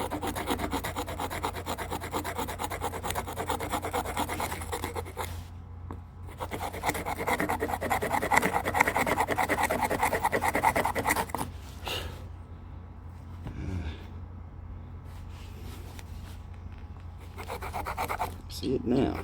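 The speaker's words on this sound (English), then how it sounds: "Now I just need to give it a grind." A bone or stone blade edge, as in Clovis-style paleo tool making, is ground by hand with a steady, close rasping scrape that runs almost continuously, briefly pausing twice before resuming.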